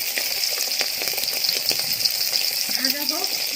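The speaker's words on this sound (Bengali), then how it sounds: "মাছের ল্যাজ দুটো আমি ভেজে নেবো ভালো করে।" Two hilsa fish tails sputter in mustard oil, a steady close sizzle with fine crackles and occasional pops, continuing without voices.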